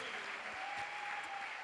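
A church congregation applauds together in praise, a steady, even wash of clapping that fills the room throughout with no talk over it.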